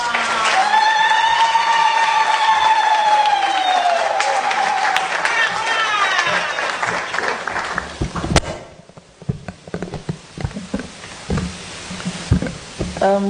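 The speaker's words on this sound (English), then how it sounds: "May we please give her a warm round of applause." Crowd at a formal address by a traditional queen at a university school greets her with loud, sustained high-pitched ululating cheers, then scattered claps and thuds as the noise thins out.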